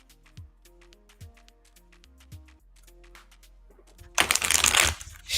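Tarot cards being shuffled by hand, a series of crisp riffling flicks and taps in short bursts with soft musical tones beneath, ending in a loud dense burst of rapid riffling, no voices.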